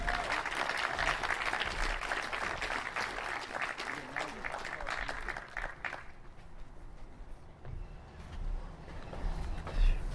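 Audience applause welcoming County Supervisor Nate Miley at the Cherryland Community Center grand opening, a steady crowd clapping that fades partway through, with some murmuring voices.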